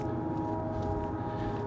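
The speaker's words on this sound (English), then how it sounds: "Still hear them chugging." Diesel locomotives pulling a CSX rock train up a hill chug with a deep, even drone and a faint tonal hum riding on top, heard steadily from a distance.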